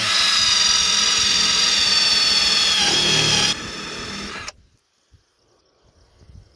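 A power driver sends screws into the body work of an Astro van limo, a loud whirring drive for several seconds that drops in pitch, then cuts off into near silence with a few faint knocks.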